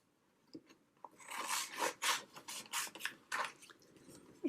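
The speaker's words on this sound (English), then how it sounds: "Maybe I'll cut out a little heart." Scissors cutting a small heart out of paper for a ladybug paper doll, heard close up as a series of short, soft snipping and rustling strokes in an irregular rhythm, with no talking.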